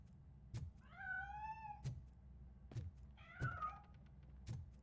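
A cat meows twice in the video game Robocop: Rogue City: two drawn-out, fairly close meows with a few dull thumps and steps in the background.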